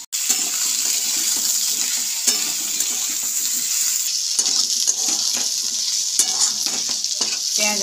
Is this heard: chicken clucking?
no